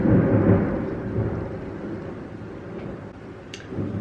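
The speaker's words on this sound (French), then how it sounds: "ça fait peur la pluie qu'il y a dehors" Heavy rain falls outside in a steady, dense rushing wash with a low rumble, indoors and fairly near, with no talking over it.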